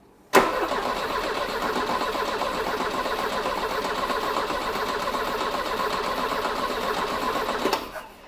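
A Volvo 240 redblock engine fitted with twin carburettors cranks on the starter, a loud, fast, steady whirring churn that starts abruptly and runs for about seven seconds before cutting off, without catching.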